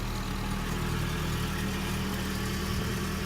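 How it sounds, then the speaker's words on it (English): A Nissan 240SX engine idles steadily with a low, continuous rumble and no talking. "Most of the noise is coming from the engine itself."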